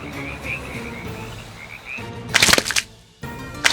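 Rhythmic croaking calls repeat in short bursts, like frogs in a chorus, followed by a few sharp crackling bursts nearby.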